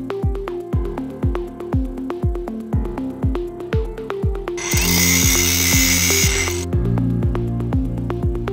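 A battery-powered cutting tool working on trees during a tree rescue, with a rapid, regular pulsing motor rhythm that swells into a loud, sustained, bright whine as the blade bites in, then drops back to pulsing. Close and loud, with no voices.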